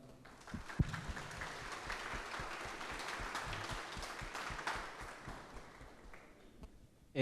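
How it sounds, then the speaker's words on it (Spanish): An audience at an electoral Tuesday forum claps for Doctor Vélez, the applause fairly faint and steady with a few sharper nearby claps, tapering off near the end. "Por favor, un fuerte aplauso."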